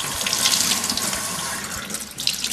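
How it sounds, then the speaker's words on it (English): Cold water runs steadily from a tap into a sink, a continuous hissing splash with no pauses and no voices. "So I'm going to start off just getting a bit of water."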